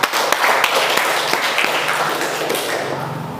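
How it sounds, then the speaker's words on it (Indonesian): A classroom full of students gives a round of applause, many hands clapping at once with a few sharp, distinct claps standing out, steady throughout and gradually easing. "Oke, kita berikan aplaus"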